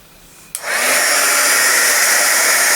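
A heat embossing tool switches on with a click and blows hot air in a loud, steady whoosh that rises quickly and holds close, with no talking.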